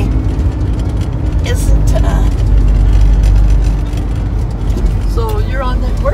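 A 1986 Ford Ranger pickup with a manual stick shift driving, its steady engine and road rumble loud throughout under close conversation between people inside the cab.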